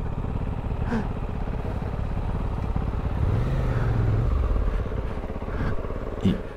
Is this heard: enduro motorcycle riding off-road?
yes